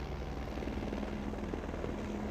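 A helicopter flies over the Sepang race circuit during the Malaysian MotoGP, giving a steady, continuous rotor and engine drone at moderate distance. No voices are heard.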